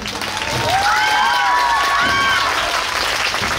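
Audience applause at an outdoor street unicycle stunt show, a dense, loud wash of clapping from a crowd with a few whistles and scattered voices mixed in.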